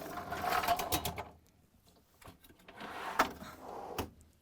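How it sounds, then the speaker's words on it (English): Rails of a Whirlpool, KitchenAid or Maytag refrigerator freezer drawer are pulled out, giving two bursts of scraping, rattling slide noise with clicks, separated by a short quiet gap. "All right, I'm going to pull out the rails."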